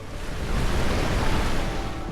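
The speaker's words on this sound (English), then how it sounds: "The water shoots out of this hot spring at about 50 gallons per second." Hot water gushes from a hot spring in Iceland, a dense continuous roar of rushing water, broad and steady, swelling slightly in the middle, with no voices.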